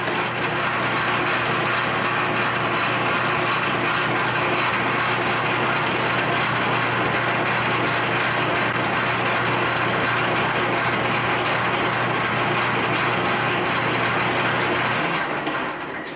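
A homemade metal lathe cuts a 16 TPI thread, a loud, steady, continuous mechanical drone with a constant hum that holds unchanged for the whole stretch, nearby and without voices.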